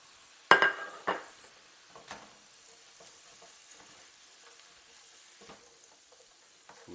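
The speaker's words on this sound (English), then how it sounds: "Now that this steak is starting to brown up, I'm going to add our peppers and onions to it." Steak with peppers and onions frying in a pan: a couple of sharp clanks of utensil on metal open a soft, steady sizzle, with scattered light stirring taps through the rest.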